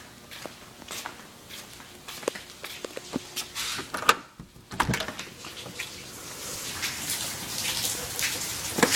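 Steady rain patters and splashes on a surface, with scattered louder drips and a few sharp knocks, nearby and continuous.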